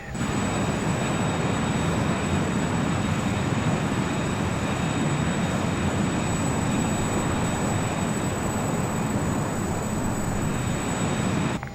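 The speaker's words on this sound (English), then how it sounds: "So put the engine on idle and see how far it will get us" Learjet 35A jet engines idling in Microsoft Flight Simulator, a steady, loud broadband roar with a faint high whine that holds constant throughout, no voices.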